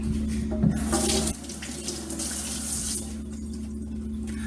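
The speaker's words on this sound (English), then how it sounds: "just rinse them off because these are have a little bit of blood on there from last night" Tap water runs over a whole yellowtail snapper in a sink, a loud continuous stream that spatters and shifts, then drops a little softer partway through as the flow changes.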